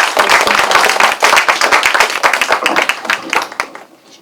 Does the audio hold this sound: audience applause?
yes